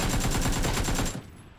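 Rapid full-auto AK rifle fire in PUBG, a dense burst of closely spaced loud shots that stops abruptly near the end, leaving a brief quiet tail.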